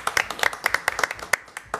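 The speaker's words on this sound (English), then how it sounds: "You got our applause." A few attendees at a Dunedin city commission meeting clap briefly, with scattered individual hand claps in quick, uneven succession for under two seconds.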